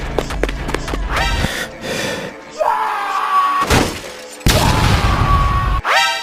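A chaotic cartoon sound sequence of a slipper bomb exploding, with a loud crashing blast, scattered bangs and shattering noises, and a cartoonish whistle, all close and loud.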